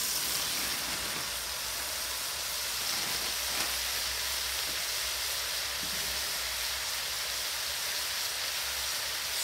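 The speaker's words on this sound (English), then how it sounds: "we're going to add 1 kilogram bag of minced beef direct to the pan from" A one-kilogram block of frozen minced beef fries in a hot pan, making a dense, even hiss and crackle that holds steady throughout at moderate loudness, with one or two faint knocks and no voices.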